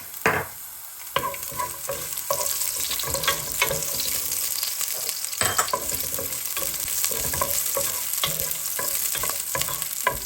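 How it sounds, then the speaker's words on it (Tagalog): Onion, garlic and shallot sauté in olive oil for chicken chop suey, a steady close sizzle broken by frequent scraping stirs and a few sharper knocks of the utensil against the pan. "konting olive oil para igisa natin yung ating sibuyas at bawang"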